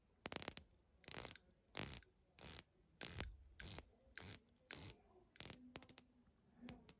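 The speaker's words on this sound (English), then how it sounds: "It's a nice bezel action." Rolex Submariner 16610LV with aluminium bezel insert being turned, producing about ten short bursts of crisp ratcheting clicks spaced under a second apart, very close and quiet.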